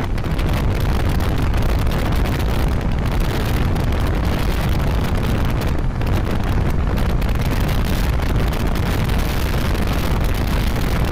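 A 2022 Hero Passion Xtec motorcycle ridden at top speed, about 89 km/h, with loud, constant wind buffeting over a steady engine roar that fills the whole stretch without a break.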